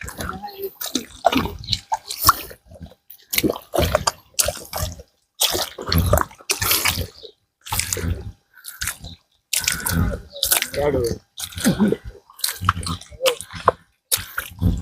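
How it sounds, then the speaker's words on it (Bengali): A tiger fish is rinsed in water by hand, with irregular sloshing and splashing bursts broken by short silent gaps. The washing is loud and close. "তো এটা আমি ভালো করে ধুই ধুইয়া পরিষ্কার করি"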